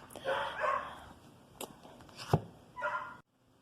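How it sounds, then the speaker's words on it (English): Dogs bark outside in a few short, separate bursts, loud and then quieter, with a sharp yelp near the end before the sound cuts to near silence. "I had to close the window because the dogs were going crazy."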